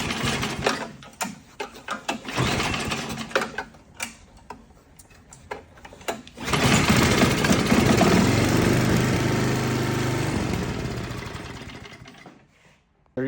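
A few quick pull-cord rattles, then a snow blower's small engine sputters to life after a pull-start repair and runs steadily for several seconds before cutting off.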